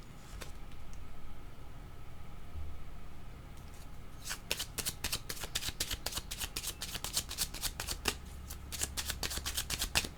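Oracle cards are shuffled and drawn close up: a soft rustle at first, then a quick run of crisp riffling flicks and snaps over faint background hum, with no talking.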